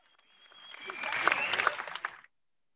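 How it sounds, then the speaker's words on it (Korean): Webinar participants applaud to welcome a professor, the clapping swelling gradually from faint to a fuller wash before cutting off abruptly, with a thin electronic tone running beneath it. "이문영 교수님 모시겠습니다. 박수로 맞이해 주세요."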